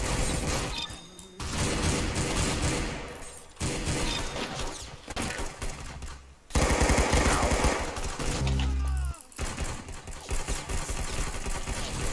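Rapid gunfire from the Roblox shooter Arsenal, loud dense bursts of automatic shots with brief pauses and heavy impacts, mixed with game music and effects.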